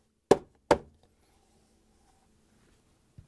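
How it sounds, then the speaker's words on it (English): A plastic Samsung freezer door shelf is pushed up and knocked loose: two sharp, close clacks in quick succession, then quiet and a faint bump at the end. "To remove the old freezer shelf, we need to push it up"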